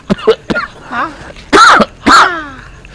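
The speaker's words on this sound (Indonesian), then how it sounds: "Jadi batuk ya" A person gives a series of short, harsh coughs and throat-clearing bursts, several quick ones followed by two louder, longer hacks, close to the listener and with no talk around them.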